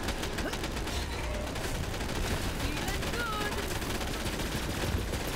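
Gatling gun fired in the video game Borderlands 3, a dense, unbroken roar of rapid automatic fire that stays loud and steady from start to finish.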